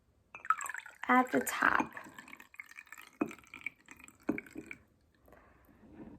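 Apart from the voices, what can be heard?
water mixture poured into oil in a jar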